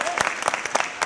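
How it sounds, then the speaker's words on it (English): An audience applauds the parents at a boys' opening ceremony, a brief burst of clapping from a crowd, fairly loud and close, with a voice partly audible over it. "Let's give our parents a round of applause."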